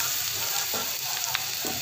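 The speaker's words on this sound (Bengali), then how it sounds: "সবাই ডিম ভাজে পেঁয়াজ মরিচ দিয়ে।" Eggs frying with onion and chili in a hot pan, a steady close sizzle with faint crackles and a few soft stirring clicks.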